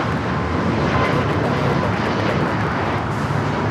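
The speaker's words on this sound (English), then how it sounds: "That is Southwest Airlines 3808 taking off to Phoenix on the MAX 8." A Southwest Airlines Boeing 737 MAX 8 takes off from LAX as a broad, steady jet roar heard from outside, mixed with wind rumble on the microphone.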